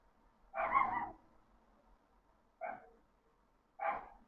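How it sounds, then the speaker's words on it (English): A dog barking indoors, three separate barks: one longer bark near the start, then two short sharp ones spaced a second or so apart, each clear against an otherwise quiet room. "And apologies for the dog."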